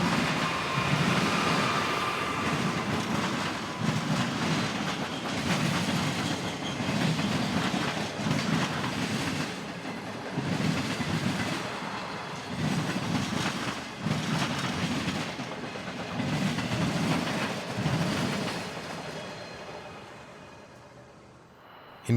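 A military train led by a BNSF locomotive rolls past at Cabazon, with loud, rhythmic clickety-clack of wheels over rail joints in repeated bursts that fade as it moves away.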